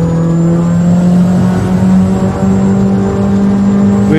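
A boosted all-wheel-drive Honda Civic holds a steady, loud droning engine note while brake boosting before a street race, a close, sustained rumble with a high whine of forced induction.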